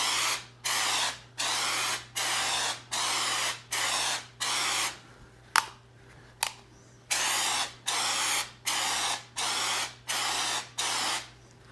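DAP texture repair is sprayed onto a wall in a quick, regular series of about a dozen short hissing bursts, each separated by a brief pause, close and moderately loud over a low steady hum.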